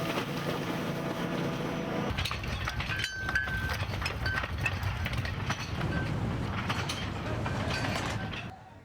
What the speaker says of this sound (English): Coal is transported by train.